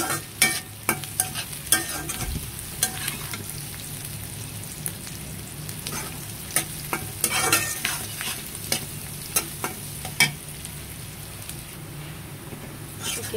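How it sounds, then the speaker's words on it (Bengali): Onions fry in a pan while being stirred until brown, a steady crackling sizzle broken by repeated sharp scrapes and taps of the spatula at irregular intervals, close and fairly quiet. "এখানে পেঁয়াজগুলোকে আমি বাদামি করে ভেজে নেব"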